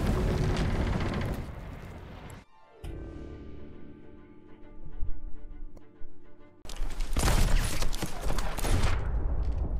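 Gunfire in the Sea of Thieves video game comes as loud bursts of shots and blasts, breaking off into a quieter ringing stretch before a heavy, sustained barrage resumes.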